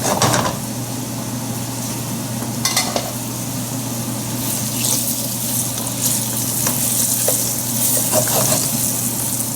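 Potatoes sizzle and crackle steadily in a hot pan for masala rice with vegetables, a continuous loud frying hiss broken by a few sharp stirring scrapes.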